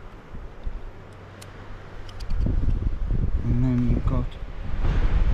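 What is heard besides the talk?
strong wind blowing outdoors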